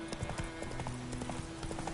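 Roach the horse in The Witcher 3: Wild Hunt galloping, a quick, regular clip-clop of hooves in a steady rhythm, moderately close, with a faint tonal hum underneath.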